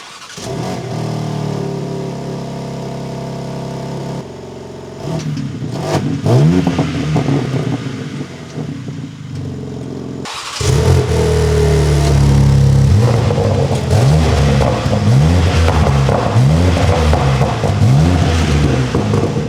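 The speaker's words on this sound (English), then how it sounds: "Let's get outside for some exhaust rev clips." A BMW G81 M3 Touring with an axle-back exhaust and new carbon-and-polished tail pipes revs repeatedly, its engine note rising and falling in sharp blips, then growing louder and closer in the second half with a deep, rumbling exhaust.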